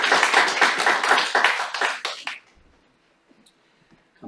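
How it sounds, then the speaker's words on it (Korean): A burst of applause from a crowd, steady clapping for about two seconds, then it fades out into near silence. "축하의 박수를 저쪽으로 다시 한번 하겠습니다"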